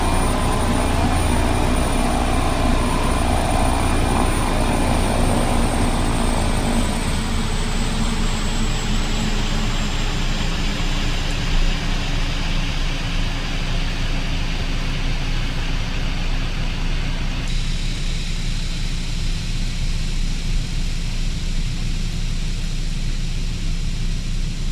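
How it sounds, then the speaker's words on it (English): Beechcraft 1900D turboprop propellers winding down in Flight Simulator 2002, a loud steady engine drone whose tone drops in two clear steps as the props slow, continuing alone without speech. "I think those propellers should stop any time now"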